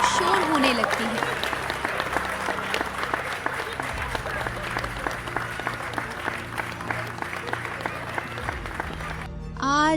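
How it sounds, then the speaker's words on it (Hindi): A cartoon cricket stadium crowd applauding and cheering in a continuous dense roar, with music and sound effects layered underneath and a sweeping tone at the end. "मोहन जैसे ही ग्राउंड में आता है, लोगों की तालियां और शोर होने लगती है।"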